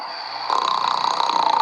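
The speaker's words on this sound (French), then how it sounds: "il y a des très bons ronflements" A sleeping person snores in bed, one loud, raspy, rattling snore that swells in partway through and carries on close to the mic.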